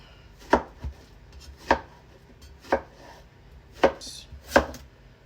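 Knife chopping vegetables such as yams on a cutting board while preparing side dishes for peppered fish: six sharp, evenly spaced thuds, close and clear, with no talk.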